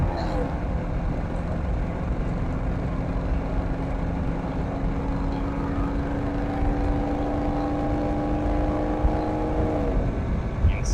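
A truck on the road speeds up with a steady engine drone rising in pitch over several seconds, then easing off, heard from nearby under constant road noise.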